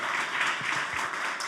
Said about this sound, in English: Can we get a round of applause for the New Deal organizers that put this together?